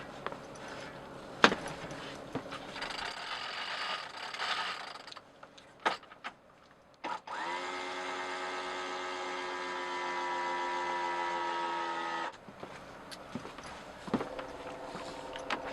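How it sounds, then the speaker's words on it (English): A winch hauls in a halyard to hoist an outboard motor off its mounting bracket, giving a steady whirring grind for several seconds between scattered clicks and clunks. "So I'm going to go ahead now and winch in the halyard"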